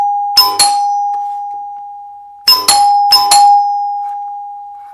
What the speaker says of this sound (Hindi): बाहर से कोई बेल स्विच को दबाता है, घंटी बजना स्टार्ट हो गई